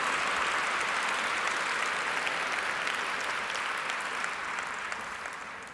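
Dense audience applause fills a lecture-style dialogue event on magic and the brain, a steady, close wash of many hands clapping that eases slightly toward the end, with no voices over it.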